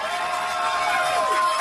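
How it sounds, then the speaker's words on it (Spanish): Audience at a talk on anesthesia myths and truths cheers and applauds to welcome a doctor, a loud dense crowd roar with whoops and high voices that lasts the whole brief moment. "Recibamos al doctor Loarte con un gran aplauso."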